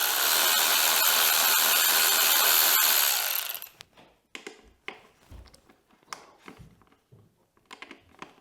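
An electric ratchet removing frame bolts from a Yamaha YZ 250FX dirt bike, buzzing steadily and loudly for about three seconds before stopping, followed by scattered clinks and handling clatter of parts.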